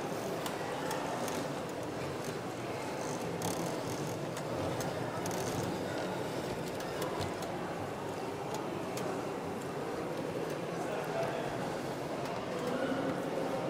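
An LGB G scale model rack railway train with original LGB rack rails and track runs steadily on a large layout, a continuous rumbling, rattling roll with faint clicking that holds even for the whole stretch, with no voices.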